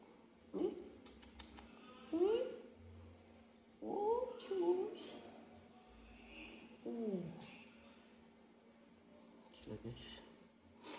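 A mother cat meows in several short, rising calls spaced a few seconds apart, close and fairly quiet, with soft background noise between them.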